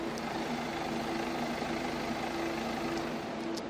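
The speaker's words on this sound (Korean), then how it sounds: "엔진 소음 먼저 들려드리면은 디젤 엔진치고 굉장히 정숙하고요" A BMW 420d Gran Coupe diesel idles with its engine bay closed, giving a quiet, steady low hum with a faint even clatter that holds unchanged throughout.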